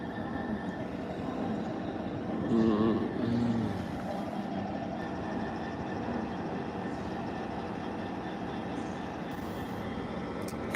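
Class 66 diesel locomotive idling nearby with a steady low rumbling engine drone and a faint hum that continue throughout, briefly rising in loudness for a moment.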